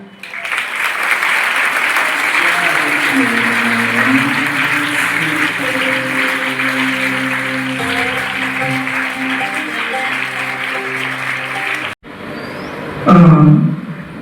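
A school audience at Chatrabhuj School in Palitana claps in sustained, dense applause that runs for about twelve seconds over a steady tonal drone. Brief talk comes at the end.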